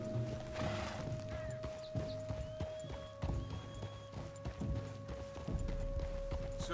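Horse hooves clip-clop steadily at a walking pace in Red Dead Redemption 2, with rhythmic thuds fairly close under a constant tonal hum and faint background game ambience.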